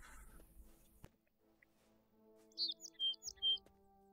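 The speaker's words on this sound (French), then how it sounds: "Les petits bruits d'oiseaux dans les oreilles" Small birds chirp in the ambient soundscape of the tactical game Forgotten but Unbroken: a quick cluster of bright, high tweets over quiet background hum, fairly close and clear.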